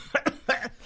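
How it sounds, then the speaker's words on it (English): A few harsh, bursty coughs in quick succession, close by, followed by a softer trailing breath; no talk. "I cough so hard I think I have to pee"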